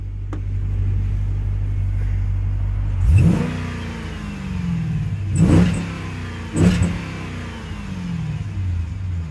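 A 2014 Jeep Grand Cherokee SRT with a Borla exhaust idles with a deep rumble, then three sharp throttle blips rise and fall roughly a second or two apart, loud and close, settling back to idle each time.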